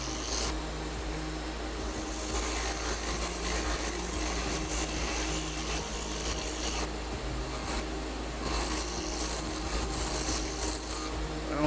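A hand file rasps against a wooden chess bishop spinning on a lathe, a steady close scraping that runs continuously over the motor's low hum, with brief dips where the file lifts off.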